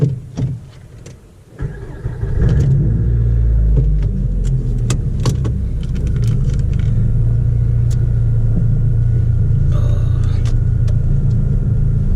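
2004 Nissan Sentra SE-R Spec V starting up inside the cabin, small clicks and a buckle before the engine catches into a loud steady rumble that holds while driving, with a few faint clicks over it.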